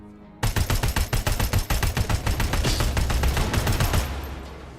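Rapid automatic gunfire from a video game weapon, about a dozen sharp, evenly spaced loud shots over roughly a second and a half, then a denser roar of continuous firing that fades out, with no voices.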